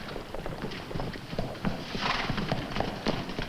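Several horses' hooves clip-clop on the ground in an Old West setting, with irregular overlapping steps close by and continuing throughout, and a horse whinnying faintly in the mix.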